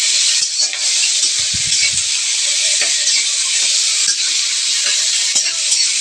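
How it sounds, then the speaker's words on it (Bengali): Chopped onion hits very hot oil tempered with bay leaf, giving a loud, continuous close-up sizzle and hiss with occasional stirring scrapes. "তেজপাতা ফোড়ন দিয়ে তাতে দিয়ে দেবো পেঁয়াজ"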